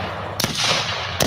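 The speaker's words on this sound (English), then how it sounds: "I got some gunshots." Gunshot sound effects fire off as sharp, loud bangs, one near the start and another near the end, each trailing into a rumbling echo.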